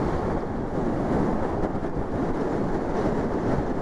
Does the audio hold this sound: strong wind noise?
yes